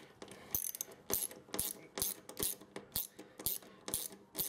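A socket wrench ratchets on a nut while a Smash TV arcade joystick is rebuilt, giving a close run of quick clicking strokes repeated in a steady back-and-forth rhythm, about ten pulls, with no speech.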